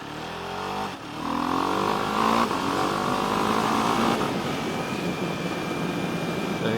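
A Husqvarna Svartpilen 701 motorcycle accelerating hard on the road, its engine note climbing through the revs in a loud, steady roar after a brief dip, heard close with wind rush and no talk.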